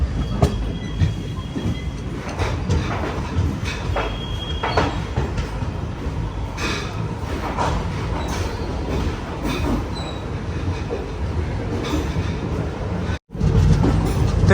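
An express train pulls into platform 3 at Thrissur railway station in Kerala, its steady rumble and clattering wheels filling the whole stretch with faint squeals above, loud and close, before a brief cut near the end.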